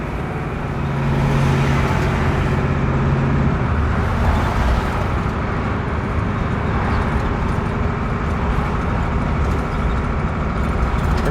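Continuous loud road rumble and engine drone from a 1978 Bluebird Wanderlodge bus driving in traffic, with a brief low tonal hum early on and steady wind and tire noise throughout.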